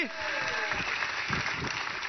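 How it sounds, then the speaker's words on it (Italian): Theatre audience applauding students as they enter during a comedy trio's stage show, a steady wash of clapping with voices and a sliding tone over it, short and continuous. "un applauso, dai!"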